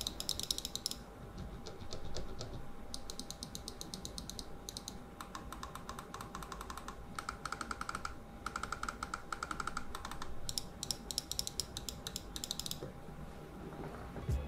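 A Pulsar Xlite mouse with Omron primary switches clicks in rapid bursts, crisp and close but quiet, with short pauses between runs of tapping and no talk.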